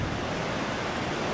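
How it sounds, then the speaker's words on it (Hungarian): The Isel, a glacier-fed Alpine river running unaltered from the ice down to Lienz, flows with a constant, full rushing roar, loud and unbroken. "The Isel, you can see down there, is the last river which is not changed by humans."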